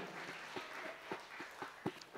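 A church congregation claps together during a morning worship service at a reunion, the scattered hand claps soft and fairly distant, fading in and out without anyone talking.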